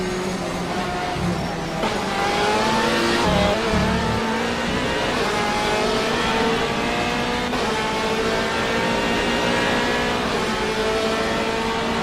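Onboard a Ferrari GT race car in a racing video game at Sebring, the engine drones loud and continuous, with a few quick gear shifts and rising revs.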